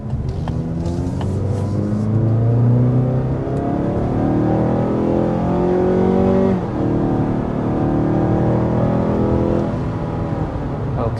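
A 2026 Mazda CX-5 with a 2.5-liter four-cylinder under hard acceleration, heard from inside as a loud, steady engine drone rising in pitch, with a brief dip around a gear change before it climbs again.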